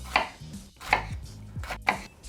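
A jalapeno pepper sliced on a cutting board, three crisp close knife chops in an even rhythm, each with a sharp thud on the board.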